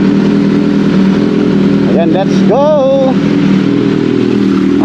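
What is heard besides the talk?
big bike motorcycle riding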